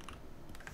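Computer keyboard keys pressed while working with shortcuts in Blender 3D modeling software, a couple of quiet, brief key taps close by over a low background hum, with no talking.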